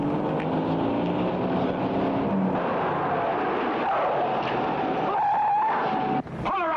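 A car approaches with a rising engine note and tire screech, a brief whine swelling before a sudden knock near the end, in an old television crime drama.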